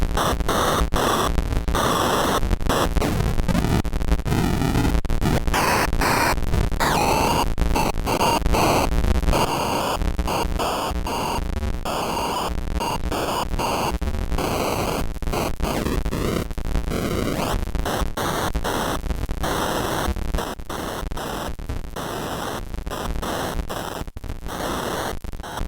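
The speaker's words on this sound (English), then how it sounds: "just piping in LFOs with an audio plugged in but nothing coming into it, you can get noise beats out of it" A Harvestman Malgorithm Mk II synth module producing noise beats from LFOs with no audio input, a loud, harsh wash of static and crackling noise chopped into shifting rhythmic bursts and glitchy pulses throughout.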